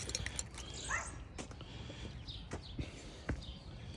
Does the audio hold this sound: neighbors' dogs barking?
yes